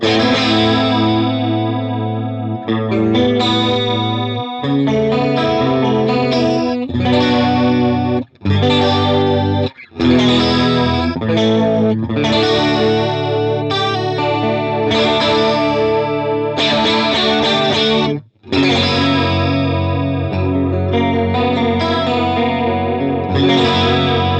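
Guitar run through the lush ensemble chorus effect of a compact Sidekick Jr pedal, shimmering and wide, playing sustained chords and arpeggios with a few short breaks.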